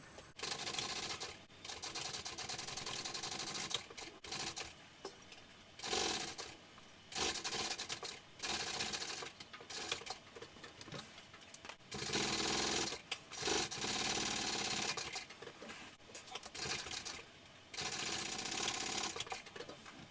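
A sewing machine stitches a fabric baby sling in repeated bursts of rapid mechanical chatter, each run lasting a second or two and separated by brief pauses, close and clear.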